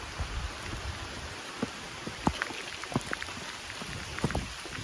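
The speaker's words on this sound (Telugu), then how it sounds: "వర్షం పెద్దదైపోతుంది" Rain falls steadily on a rural tour route near scattered houses and fields, a broad soft hiss broken by scattered sharper drops, fairly faint and continuous with no voices.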